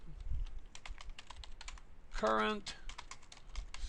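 Typing and backspacing on a computer keyboard, a run of quick light clicks with a short spoken word in the middle, then more taps.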